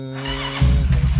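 A motorcycle unused for many days is started after repeated attempts. A brief whirring tone gives way to a sudden, close engine rumble that catches and sputters.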